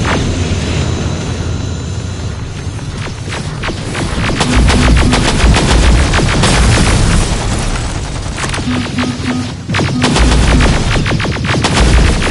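Heavy gunfire from the Terminator Resistance video game, bursts of rapid automatic shots and booming blasts layered over a constant loud roar, with intensity building through the second half and continuing almost without pause.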